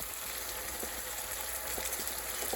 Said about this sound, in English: Real salted butter. That's what I'm cooking my shrimps in.